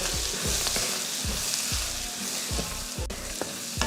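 Fried egg pieces and okra sizzle and crackle in a hot pan of masala, with a steady hiss broken by regular scraping strokes of a spatula stirring them.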